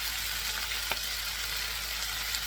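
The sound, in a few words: stir-frying garlic, ginger and ground chili in wok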